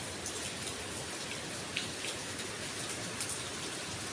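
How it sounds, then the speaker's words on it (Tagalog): Steady rain falls outside a house in Taichung, Taiwan, making a dense, even hiss of drops that holds at a constant level throughout, with a few slightly louder drips and no voices. "It's raining."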